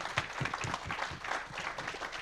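An opera audience applauds with dense, steady clapping, fairly faint and continuous for a couple of seconds.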